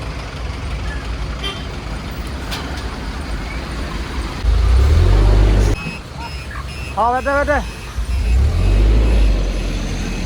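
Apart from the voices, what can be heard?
vehicles and trucks turning back on a blocked highway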